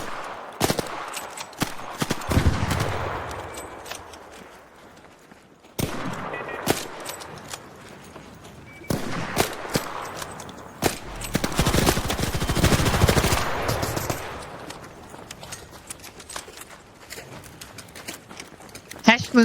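Gunfire in Arc Raiders, with loud bursts of automatic fire and scattered single shots, heaviest in a long sustained volley, while players talk over it.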